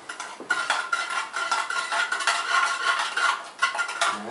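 A spoon stirs coffee grounds for Turkish coffee, enough for two, in a small pot, scraping and clinking steadily against the metal in a close, continuous rhythm with no one speaking.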